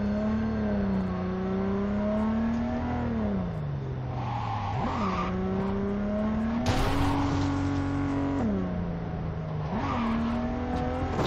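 Loud, throaty car engine in the game Cyberpunk 2077 accelerating through several gear shifts, pitch rising then dropping at each change, with a brief tire squeal or skid partway through and no talking.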